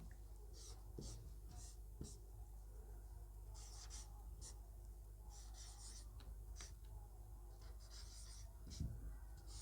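A pen writes during a class 10 physics lesson on reflection of light, faint scratchy strokes in short bursts with pauses, close but quiet over a low hum.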